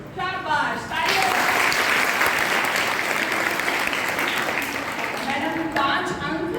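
Sustained applause from a school audience of girls in classes 6 to 8 at a Gandhi quiz contest, rising after a brief lead-in and holding steady for several seconds before tapering slightly.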